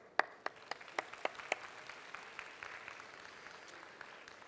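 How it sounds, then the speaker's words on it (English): Applause at an opening ceremony for a gerontechnology expo and summit: a few sharp, loud claps up front, then a softer, thinning patter of clapping from the audience. "I think you deserve a round of applause."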